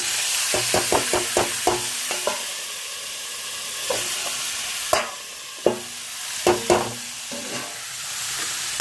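Sliced onions and green chillies frying in a pan, a steady close sizzle punctuated by a series of sharp spatula clacks against the pan, some in quick bursts and others spaced apart.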